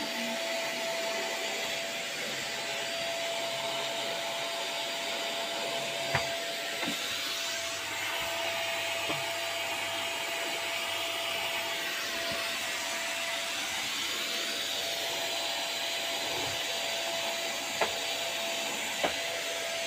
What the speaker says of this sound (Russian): Пылесос-то разверни.